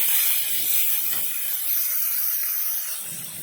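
Eggplant pieces stirred in hot oil with turmeric in a pan sizzle with a bright, continuous hiss that eases slightly toward the end, close and without talk.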